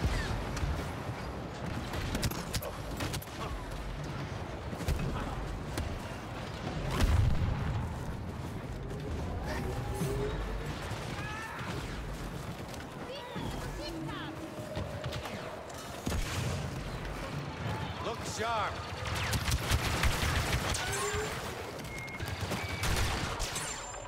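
Continuous gunfire and heavy explosions from a Star Wars Battlefront 2 battle on Endor, dense and rumbling throughout, with blaster-like bursts and booming impacts piling up over about 24 seconds.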